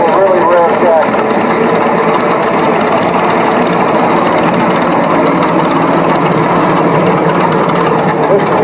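A high-drop propane M5 tractor engine chugs loudly and steadily in a farm show parade, a close, rapid, continuous rumble with crowd-area noise around it.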